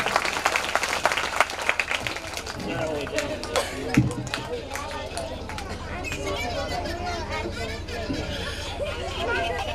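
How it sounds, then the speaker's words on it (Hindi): A crowd claps in welcome for a guest at a Hindu religious gathering, a Bhagwat Katha recitation, with the applause running steadily through the moment amid loud crowd chatter and background music. "जोरदार तालियों के साथ स्वागत करें।"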